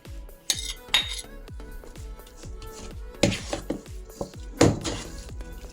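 A spoon clinks and scrapes around a bowl as chicken is mixed with ghee and spices for kebabs, giving a series of close, uneven metallic taps and knocks.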